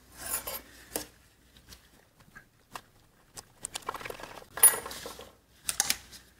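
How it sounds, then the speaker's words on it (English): Cutting off a part on a BMW E36 throttle body, a sequence of quiet scraping, rasping and clicking bursts of uneven length, close up with pauses between them. "And now I'm just gonna cut it off over here."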